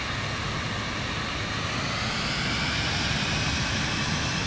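Jet aircraft engine in the video game Microsoft Flight Simulator 2024, a steady, loud broadband roar held evenly throughout, with no talk over it.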